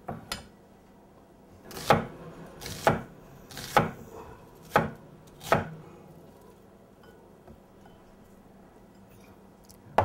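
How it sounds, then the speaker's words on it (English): A knife chops through onion on a board in five distinct, evenly spaced thuds, close and fairly loud, followed by a quiet pause and one final cut. "the next thing I do is I chop up some onion"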